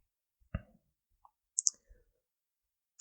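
A laptop click sounds while opening a program in Notepad: a few sparse, sharp, close clicks separated by near silence, with a couple of brief soft bumps between them.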